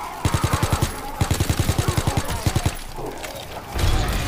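Rapid automatic gunfire in the Call of Duty zombie mode video game, heard as two long bursts of evenly spaced loud shots, followed by scattered quieter game sounds and a low rumble.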